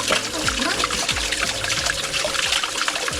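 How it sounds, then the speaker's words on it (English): Water trickles and splashes from two garden hoses into a Zen-style Japanese garden being built at an abandoned house, a steady, close, moderately loud stream with repeated small gurgles and drips. "So you have water coming from here and water comes from there."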